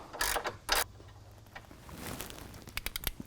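A ratchet works loose the frame bolts on the front bumper of a 2022 Jeep Wrangler JL. Two loud clunks come first, followed by softer mechanical clicking and a run of sharp rapid ratchet clicks near the end.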